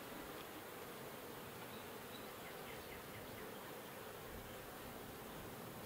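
Bees at a horizontal hive bringing in pollen, a faint steady buzzing hum that holds evenly through the whole stretch with no voices.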